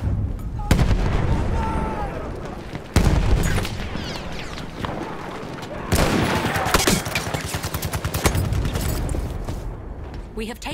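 Dense gunfire from a Battlefield V multiplayer match, with rapid machine-gun-like bursts, heavy booms and steady shooting for about eleven seconds. Several sharp loud onsets cut through, and voices are mixed into the busy battle.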